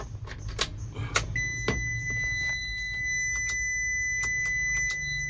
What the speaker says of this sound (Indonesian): Dan terdengar bunyi relay.